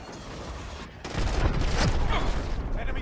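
A cruise missile launching in a shooter video game erupts into a loud, sustained roaring rush after a brief quieter lead-in, close and filling the rest of the moment.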